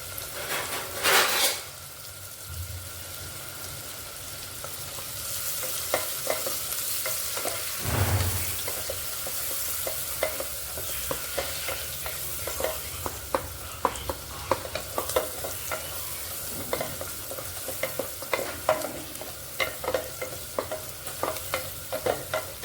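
Ginger, garlic and onion fry in oil until reddish, a loud burst of sizzling as they hit the pan, then a steady hiss broken by repeated spoon scrapes and clinks.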